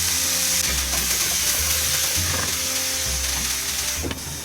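Chicken pieces frying in a pan with spices including Kashmiri red chilli, a steady loud sizzle with scraping and stirring clatter over a low, recurring hum.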